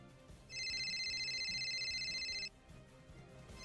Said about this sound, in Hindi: तभी मेरे फोन पर गुप्ता जी की कॉल आई